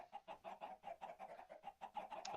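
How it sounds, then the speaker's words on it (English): Chickens clucking in a block-building video game farm, a steady run of short rhythmic clucks about every quarter second, close and moderately loud with no talk. "So let's spawn some chickens right here. A bunch of chickens."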